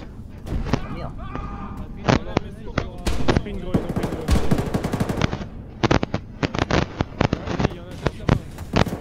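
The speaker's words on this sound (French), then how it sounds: "En fait, je peux pas tirer, ça tire dans le mur." Rapid gunfire from a first-person shooter video game, loud bursts of automatic fire and single shots in quick succession, with a player's voice talking over the shooting.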